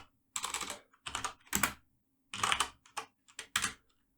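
Short bursts of close, crisp keystrokes on a computer keyboard as commands are entered on a Linux SSH server, with several quick clusters separated by brief silences.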